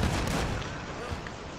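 Gunfire in a first-person robbery video game, a dull, muffled burst of shots at the start that fades into a steady rumbling wash.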